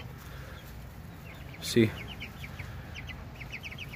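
Chickens in a backyard coop: a single brief cluck stands out against quiet outdoor ambience, with a few soft chirps and distant bird calls following.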